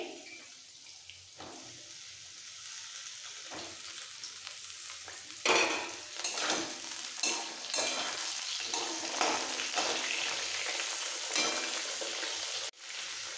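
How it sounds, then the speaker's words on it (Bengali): Potatoes and ridge gourd fry in a pan with a broad sizzle that swells after a few seconds, joined by stirring scrapes and clatters, fairly close and steady, with no talking. "আলু হালকা ভাজা হয়ে গেছে, এবার এর মধ্যে দিয়ে দেবো ধুয়ে রাখা ঝিঙে"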